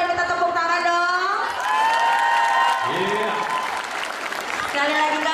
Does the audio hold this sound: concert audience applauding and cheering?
yes